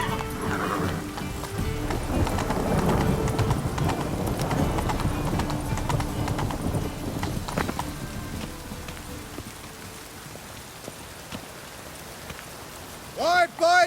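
A horse's hooves clip-clop at a steady walking rhythm in The Witcher 3 video game, close and clear over falling rain, fading to quieter ambience before a brief whinny-like tonal burst at the end.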